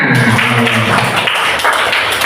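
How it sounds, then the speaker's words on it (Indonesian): Class 5 schoolchildren applaud together in a classroom, a dense, steady patter of clapping filling the whole moment, with a voice briefly audible underneath. "Tepuk tangan semuanya"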